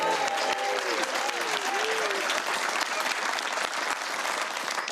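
A television studio audience at a comedy panel show breaks into loud, sustained applause that fills the room, with whoops and cheers riding over the steady clapping.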